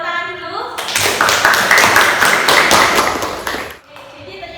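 A class of students claps together for about three seconds, a fast, loud patter of many hands that swells and then stops abruptly, with voices before and after.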